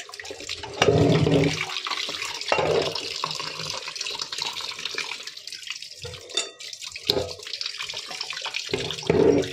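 Running tap water splashes while hilsa fish pieces are washed in a kitchen sink, with close gushing and intermittent splashes and drips, the flow surging and easing as the pieces are handled.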